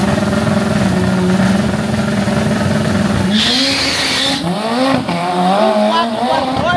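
Drag racing car on its first run with a new system, engine roaring loud and rising in pitch as it accelerates, under a steady crowd and background voices.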